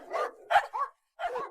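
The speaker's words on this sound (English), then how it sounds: "How about our dog friends?" A dog gives four short barks: three quick ones in a tight run, then a pause and a fourth, all clear and close with no talking.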